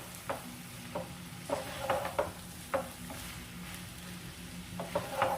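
Whole cardamom, cinnamon, clove and mace being stirred in hot oil for muri ghonto, a soft steady sizzle broken by several sharp scraping strokes of the spoon against the pan, close and unaccompanied.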